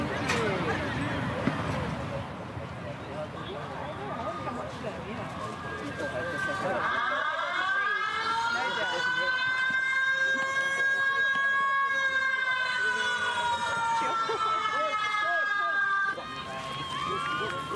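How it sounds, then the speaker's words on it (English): A loud wailing siren at a 3Ptag junior sports tournament marks the start of a time slot, its pitch rising and holding for about nine seconds over crowd chatter, with voices talking before it. "That siren signifies the start of our 6:50 time slot."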